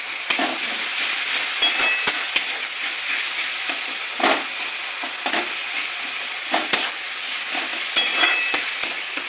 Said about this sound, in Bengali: ভালোভাবে কষিয়ে নেবো টমেটোগুলো